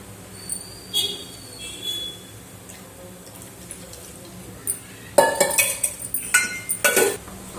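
A metal kadai set on a stove while cooking crispy street-style chicken pakoda, heard as a few clanks and scraping knocks late in the clip after quieter clinks, with a voice talking in between.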